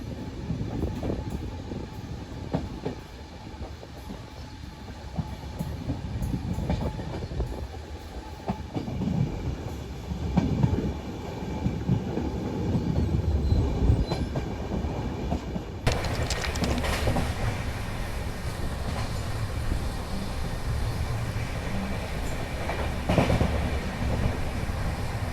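An Amritsar Bikaner Weekly Express train rolls through a tight U-shaped curve, its wheels clattering steadily under a continuous rumble that stays even and moderately loud throughout.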